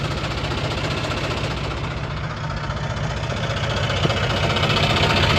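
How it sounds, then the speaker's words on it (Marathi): A farm tractor engine runs loud and steady at night, a continuous close rumble with no pauses and no voices over it. "चला आपला घेऊन येऊ आता ट्रॅक्टर"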